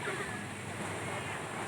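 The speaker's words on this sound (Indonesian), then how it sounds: "Inilah suasana ombak laut pada hari ini" Big sea waves at Lampuuk beach in Aceh roar as a constant broad wash of surf, with wind buffeting the microphone throughout.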